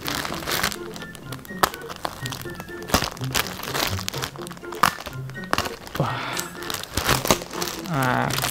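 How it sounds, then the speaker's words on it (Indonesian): A plastic package is opened by hand with close, irregular crinkling and crackling, sharp rustles and thumps between bursts of handling, while a person talks intermittently over the noise. "nah yang dinikmatin dari buka paket suaranya"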